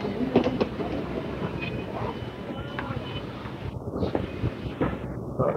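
Near an Amsterdam train station, a passing train gives a continuous low rumble with faint rail clatter. It runs steadily under general street ambience, with occasional voices nearby.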